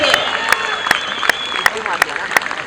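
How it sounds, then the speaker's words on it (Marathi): Crowd applause and cheering at a local cricket tournament after a batsman reaches a quick half-century with sixes, steady clapping with sharp regular claps standing out, under a commentator's talk. "टाळ्यांचा गजर विक्रमादित्य या ठिकाणी होतोय"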